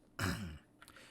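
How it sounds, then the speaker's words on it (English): A single short throat clearing, close and fairly quiet, followed by a faint breath. "I apologize if I'm clearing my throat a lot"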